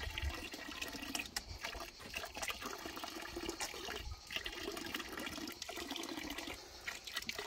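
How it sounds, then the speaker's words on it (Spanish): A cow drinking water from a farm bathtub, a continuous close, loud watery sloshing and trickling churn with no talk. "Se beben unos pocos de litros de agua. Mira cómo ha bajado la bañera."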